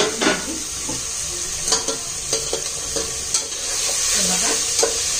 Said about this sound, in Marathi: पुन्हा एकदा हलवून घ्यायची